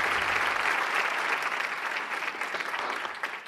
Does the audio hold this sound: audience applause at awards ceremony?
yes